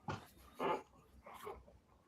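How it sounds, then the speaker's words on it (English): A dog gives three short, quiet vocal bursts, whimpering or yelping sounds close to the microphone in a living room, spaced about half a second apart. "that is the dog"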